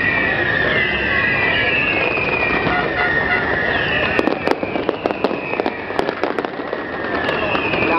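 Fireworks over the Corniche for the UAE 41st National Day, a dense run of sharp crackling pops and bangs at mid-distance over a steady crowd and traffic hum, with whistling tones drifting through.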